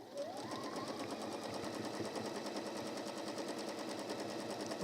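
A sewing machine topstitching through both layers of a lined apron runs at a steady, fast, even hum with a rapid needle clatter, close and continuous, with no voices.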